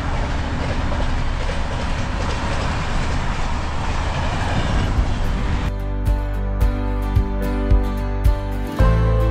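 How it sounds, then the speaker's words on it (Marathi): A Konkan Railway train rolls past on the line near Mahad MIDC, its loud steady rumble giving way to rhythmic clickety-clack of wheels over rail joints, close and continuous with no talk. "आणि ही कोकण रेल्वे."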